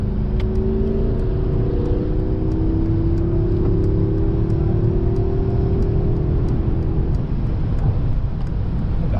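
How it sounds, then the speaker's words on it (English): A 2021 Mercedes-Benz S580 engine pulls hard in Sport Plus mode on a wet, rainy German road, giving a loud, steady roar with a low tone that gradually climbs, under constant road and tire noise. "You also have a nice sporty sound as soon as you switch to Sport Plus."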